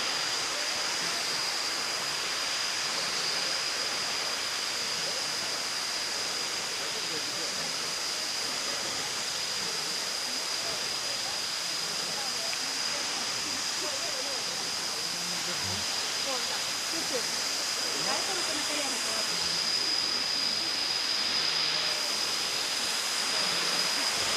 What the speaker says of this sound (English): this is level 2 waterfall again